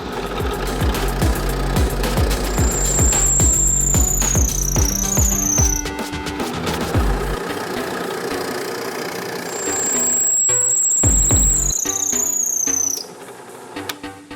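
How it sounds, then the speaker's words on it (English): Power drill boring holes through wooden boards for a homemade wood go-kart: a loud, close whining motor with a piercing high squeal, running in two long bursts before cutting off abruptly. "I am going to drill out a hole 2 inches down from the center on each end of these boards"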